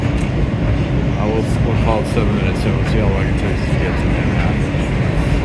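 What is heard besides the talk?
BMT subway train riding from Brooklyn to Manhattan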